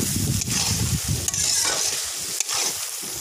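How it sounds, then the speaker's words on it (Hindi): Chicken with garlic and ginger frying in a karahi for street-style Peshawari charsi chicken, a loud continuous sizzle close by with rhythmic scraping of a spoon stirring through it, no voices. "लहसुन अदरक डालने के बाद इसको चिकन को थोड़ा सा अच्छे से भूनेंगे।"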